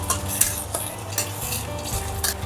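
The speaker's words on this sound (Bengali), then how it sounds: "এখানে দিয়ে দেবো অল্প করে একটু জল দিয়ে এটাকে ভালো করে একটু নেড়ে নেবো।" Chicken being stirred in a pan with turmeric powder and a splash of water for Bengali chicken kosha, a steady scraping and clinking of a utensil against the pan with soft sizzling underneath and no voices.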